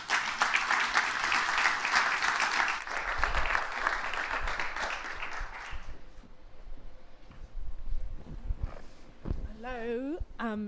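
Audience applause greets Jack and Isabella taking the stage at the REflect 2022 event, a dense burst of clapping that fills the room for about six seconds and then fades, followed by a few scattered sounds and a voice starting to speak.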